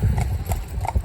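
Meg, a chestnut Welsh mare, strikes the ground with a few close, rhythmic hoof clops over a low rumbling background.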